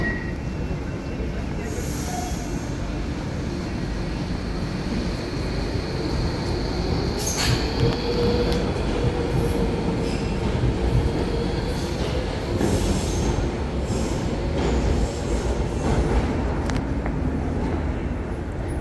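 New Docklands Light Railway train at busy Stratford station, with steady rumble of rail cars, wheel squeal and clatter throughout, a few sharp squeals standing out, under a faint background of voices.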